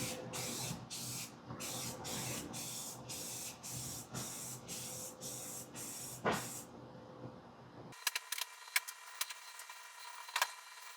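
An aerosol can sprays rust treatment onto a rusty smoker door in a string of short, loud hissing bursts. Fainter clicks and rattles follow as the spraying stops.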